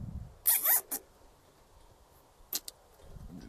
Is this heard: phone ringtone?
no